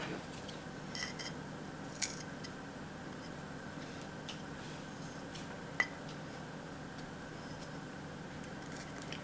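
Quiet, sparse snips of scissors over a soft background hiss, with a couple of sharper clicks spaced a few seconds apart.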